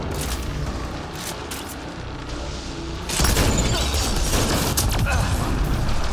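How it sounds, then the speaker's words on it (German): Grenades exploding in Mass Effect: Andromeda, a dense rumbling barrage of booms that swells louder after a few seconds and keeps rolling, with continuous gunfire-like crackle throughout. "Das sind eine Menge Granaten."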